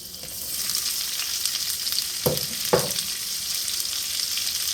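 Onion sizzles steadily in a hot pan while making Salisbury steak, a constant frying hiss with two brief clattering stirs midway and no voices.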